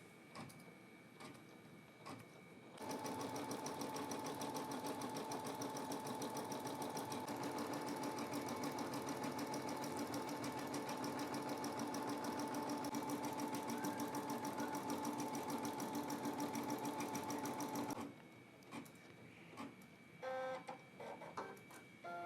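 A Brother embroidery machine stitches a design, a steady rapid mechanical chatter that runs for about fifteen seconds and then stops, with quieter machine sounds before and after and no talking.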